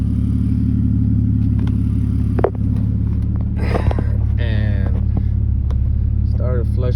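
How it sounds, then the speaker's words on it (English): A 2006 BMW 325i engine runs with a fluctuating RPM, a loud, steady mechanical drone with slight rises and dips, while a voice speaks briefly over it partway through. "as I started the car, it started fluctuating once again."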